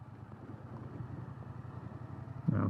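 A motorcycle engine running steadily under training clutch control, pulling away with a low continuous drone that surges louder near the end as the rider applies throttle and the clutch bites.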